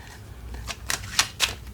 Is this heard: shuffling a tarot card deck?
yes